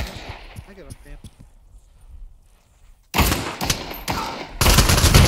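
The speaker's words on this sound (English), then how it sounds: "Shooting at me." Gunfire in the VR shooter Pavlov VR breaks out suddenly, with loud bursts of rapid shots crackling close by after a quieter stretch of faint noise and distant talk.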